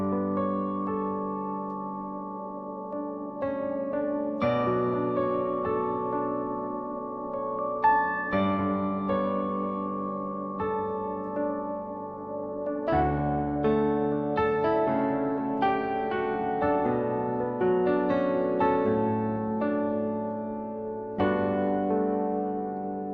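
Layered keyboard synth pad in MainStage, with a bell patch run through a delay and transposed up an octave, plays sustained chords with chiming, ringing notes that shift every few seconds, moderately loud and with no voice.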